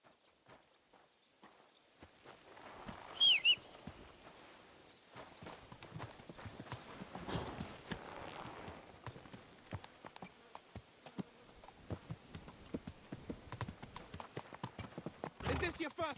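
Horse hooves clip-clop in steady rhythm as a mounted rider sets out across open country in the medieval game Kingdom Come: Deliverance 2, mid-distance and moderate, with insect buzzing and occasional voices over the walk.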